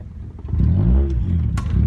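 A straight-piped Honda Accord, exhaust open from the catalytic converter back, revs up close by with a deep, loud rising drone that swells and holds, carrying a rumbling rasp.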